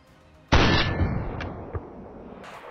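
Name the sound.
gunshot headshot in the video game DayZ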